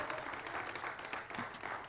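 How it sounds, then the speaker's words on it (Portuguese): A church congregation claps hands in praise, a brief, fairly quiet burst of many hands clapping together with no speech over it. "bata palmas, louve ao Senhor"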